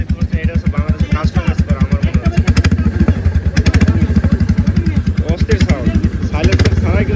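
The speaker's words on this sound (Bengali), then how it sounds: "রয়্যাল এনফিল্ডের আওয়াজ শুনে এটা হচ্ছে রয়্যাল এনফিল্ডের আমার মনে হয় অরিজিনাল সাউন্ড" A Royal Enfield motorcycle idles with a steady, deep exhaust thump, a rapid and even rhythmic pulse. It is loud and close throughout, with a brief rise in revs partway through.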